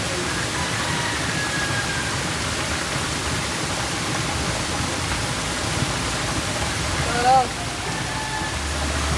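A steady broadband rush of a mountain stream flowing nearby, continuous and fairly loud throughout, with a faint brief voice or whistle near the end.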